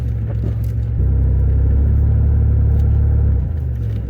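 A GM 3800 supercharged front-wheel-drive car with a 4T80E transmission swap launches from a flat-footed start at a drag strip, its engine droning in a deep, steady low roar that swells and holds before easing off.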